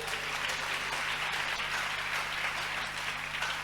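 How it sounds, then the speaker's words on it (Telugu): A church audience claps steadily for a few seconds, dense and even applause with a faint low hum underneath. "చప్పట్లు కొట్టండి ఒకసారి"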